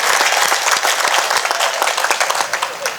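Audience applause at an evening Hindi poetry recital honoring martyrs, steady and loud, a dense patter of many hands clapping throughout with no talk over it.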